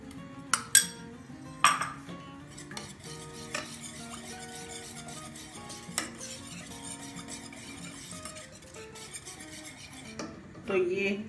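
Chutney is added to vegetable raita and mixed with a spoon, with a few sharp clinks against the bowl early, then soft steady stirring and scraping, ending in a louder scrape.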